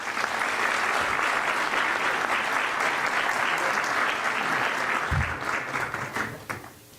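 Audience at a police honours ceremony in São Paulo breaking into a round of applause, dense sustained clapping that holds loud and steady before thinning out and fading near the end.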